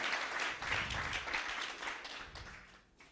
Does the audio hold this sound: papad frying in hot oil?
no